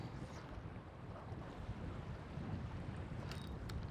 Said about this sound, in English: As you can tell, the wind is way up at the moment